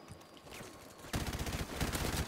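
Gunfire from the first-person shooter Modern Warfare Remastered on PS4, on the map Overgrown. Fast bursts of shots break out suddenly and continue loudly as rapid, rattling automatic fire after a quieter opening.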